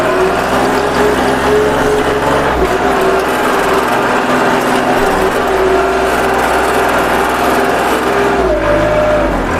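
A Kubota L3608 four-wheel-drive tractor's three-cylinder direct-injection engine runs steadily at close range, a continuous droning hum with a faint tonal whine shifting slightly near the end, no talk over it.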